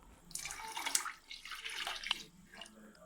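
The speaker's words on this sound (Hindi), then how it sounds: "यखनी हमने इसमें डाल दी हैं" Yakhni stock is poured into a cooking pot for beef pulao, making a soft splashing, gurgling rush of liquid that swells and fades over a few seconds, quiet and close, with no talking.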